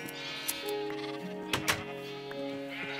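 Sheep bleat on a sheep farm in Minecraft, with a few short, wavering bleats over steady game music and a couple of soft thuds.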